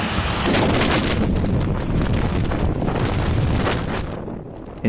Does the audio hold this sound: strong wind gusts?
yes